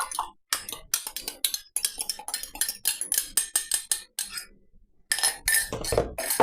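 A spoon stirs a beaten egg into scone dough in a bowl, producing rapid, close clinking and scraping taps in quick bursts with brief pauses between.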